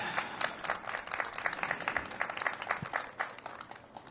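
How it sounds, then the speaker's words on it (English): Audience applause after a mayor's holiday campaign launch, a steady patter of many hands clapping at moderate level for several seconds, with faint crowd murmur underneath. "Let's give Alonzo a big round of applause."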